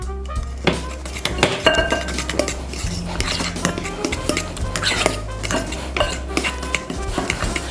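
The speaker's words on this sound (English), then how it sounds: "And now I'm going to slowly beat in the flour mixture." A flour mixture being beaten into cake batter in a mixing bowl, heard as rapid, irregular clinks and knocks of a utensil striking the bowl, close and busy, with no talking.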